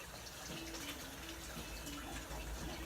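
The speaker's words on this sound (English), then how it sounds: "For right now, I'm going to rinse mine really quick." Tap water runs steadily over hands being rinsed, a continuous close, soft splashing and gushing that holds at an even level for the whole stretch, with no talk over it.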